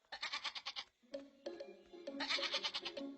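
Goat bleating at a zoo, a rapid series of loud, wavering bleats in two bursts separated by a brief pause, with a lower sustained cry in the second half, close and clear with no talk.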